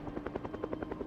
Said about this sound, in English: The helicopter has finally showed up